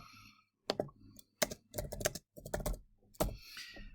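Code being typed on a computer keyboard in bursts of rapid, close clicking keystrokes, separated by short pauses, with a faint soft rustle near the end.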